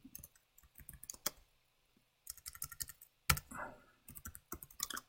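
Close, quiet typing on a computer keyboard comes in irregular bursts of light clicks with brief pauses and one sharper keystroke.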